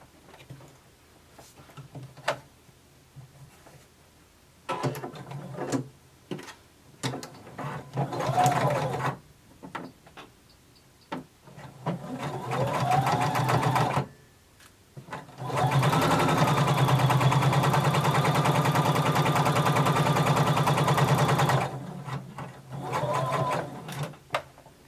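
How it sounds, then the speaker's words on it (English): A home sewing machine runs a long basting stitch up a collar from the notch to the top, its needle whirring in several bursts of varying length, with quiet pauses and handling sounds in between. "using a basting stitch, one that we can easily remove later, we're going to sew from our notch all the way up to the top of our collar"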